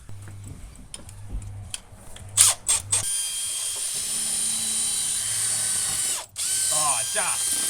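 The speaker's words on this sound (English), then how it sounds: "I'm going to just go through and drill this." A power drill whirs in short bursts while drilling through deck and stair framing into insulation, then runs steadily for several seconds with a brief stop before spinning up again; a few clicks and knocks come first.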